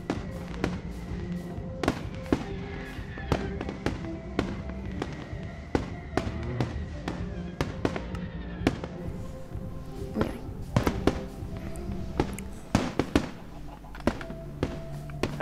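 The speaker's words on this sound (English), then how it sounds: "The fireworks haven't finished yet, have they?" Minecraft fireworks pop and crackle in scattered bursts, sharp bangs repeating irregularly over a steady background hum.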